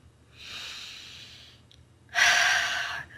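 Two deep breaths during an EFT tapping exercise: a long soft inhale, a brief pause, then a louder, forceful exhale, close and alone with no talking.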